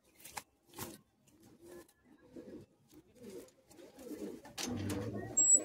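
Madrasi high flying pigeons in Kolkata cooing in soft, low, rolling phrases nearby, with a few sharper rustles and flaps, growing fuller and louder toward the end, with faint talk in the background.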